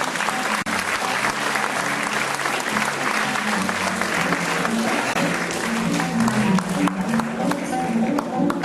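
A large audience at a 2011 gathering in Khobi gives sustained applause to Ms. Marina, the director of a charity fund, with thick, steady clapping, loud and close, and murmuring voices beneath it.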